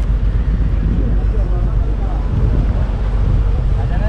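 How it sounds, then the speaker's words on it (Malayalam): A speed boat runs on the backwaters at Marine Drive, Kochi, heard as a steady low rumble buried under heavy wind buffeting and water noise, continuous throughout with no clear approach or fade. "ഒരു സ്പീഡ് ബോട്ട് പോകുന്നു."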